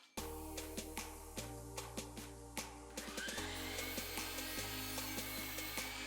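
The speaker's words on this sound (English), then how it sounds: "I'm going to make a mark at 60 inches and cut my board" A saw cuts through a 1x4 wooden board with a steady, loud motor drone and repeated gritty cutting bursts, the pitch stepping as the cut progresses.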